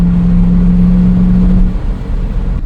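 A BMW M5 with a muffler delete and stock cats and resonator drives past, loud and close with a deep steady rumble and a droning tone. The drone cuts off partway through and leaves a rougher, lower engine note.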